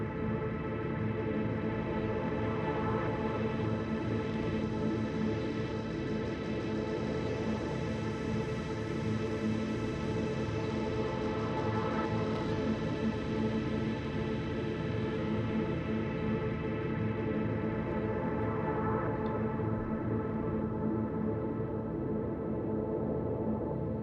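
A dense ambient texture made on an Elektron Digitakt for deep ambient house, a continuous washy drone with slowly shifting tones and gentle swells, loud and steady throughout with no voices.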